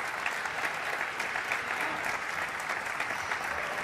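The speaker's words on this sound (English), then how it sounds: "we have some fans who are clapping" Fans applauding at a table tennis match at a world team championship, sustained dense clapping from a crowd in a large indoor hall, steady throughout.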